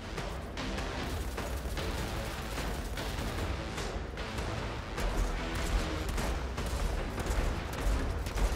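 Gunfire from the looter shooter Outriders, steady bursts of shots and impacts running throughout at moderate loudness, dense and evenly paced, with no talking.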